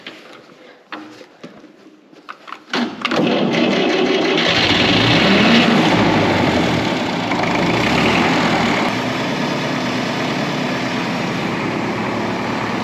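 A small engine on a fertiliser spreader, given a shot of primer, cranks with a few clicks and pulls, then catches and settles into a loud, steady, close idle.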